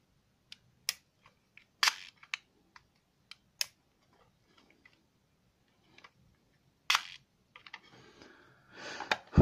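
Shutter of a Smena 8M film camera, opened up for repair, firing in a series of sharp, isolated mechanical clicks and ticks close by in a quiet room, ending with a few faster rattling clicks.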